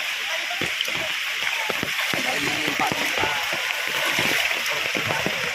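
Flood water rushes and splashes across a submerged street, a dense, continuous wash of churning water that stays loud and close throughout with no clear pauses.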